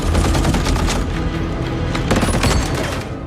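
Rapid bursts of gunfire crackle continuously, dense overlapping shots like a fierce exchange, loud and close.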